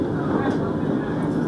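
Kamrup Express train pulling out of Bandel station, heard as a brief steady low rumble of rolling carriages with a voice speaking over it.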